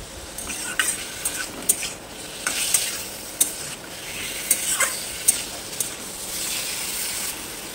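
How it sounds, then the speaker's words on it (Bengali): Chicken pieces frying briefly in a pan for a chicken stew, a constant loud sizzle close up, broken by sharp metallic clinks and scrapes of a spoon stirring against the pan. "চিকেনটাকে একটু ভেজে নেব, খুব একটা বেশি ভাজতে হবে না"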